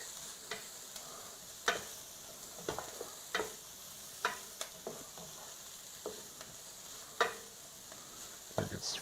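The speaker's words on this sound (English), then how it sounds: "Saute it for a moment till we start to smell a whole bunch" Aromatics sautéing in a pan, a quiet, steady sizzle with occasional sharp utensil clicks and taps, faint and close, without any talking.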